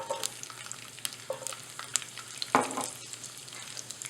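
Chopped garlic cloves sizzle in hot oil with mustard seeds for a tadka, a steady crackling hiss with scattered sharp pops and one louder burst near the middle.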